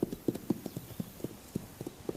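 Hooves of wild horses on the Pryor Mountain Wild Horse Range on the Montana-Wyoming border clip-clop in an uneven walking rhythm, soft and fairly close, with no talk.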